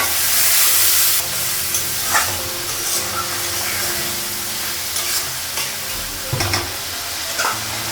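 A small splash of water hits a hot frying pan in a home kitchen and bursts into a loud hiss, then settles into a steady sizzle with occasional stirring scrapes.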